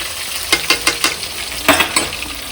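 Quail pieces deep fry in hot oil with a steady sizzle, broken by a quick series of sharp stirring clatters, close and fairly loud.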